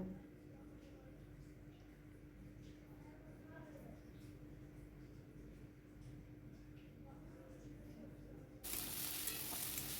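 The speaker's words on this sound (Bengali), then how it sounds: "বেগুনটা দিয়ে আবার একটু নেড়ে এক এক করে টমেটো দিয়ে দেবো" Eggplant fries with onion and garlic paste in a pan, giving a soft, low sizzle and occasional stirring scrapes under a steady background hum, ending in a sudden louder hiss.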